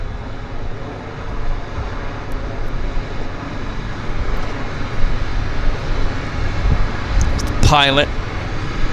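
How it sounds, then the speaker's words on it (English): A de Havilland Twin Otter floatplane starts its engine at Vancouver's downtown harbour airport: a steady low rumble builds, then a rising whine near the end, with distant talk over it. "they're going to start the Twin Otter up"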